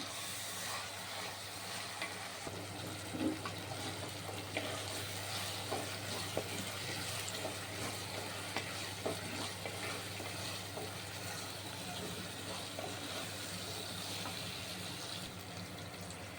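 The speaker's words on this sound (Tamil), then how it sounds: "தக்காளி சேர்த்து இதை நல்லா கலரி விட்டுக்கோங்க" Tomatoes are stirred into a prawn curry in a pan, giving a soft continuous sizzle and hiss with faint scraping of a spoon, close but quiet and without speech.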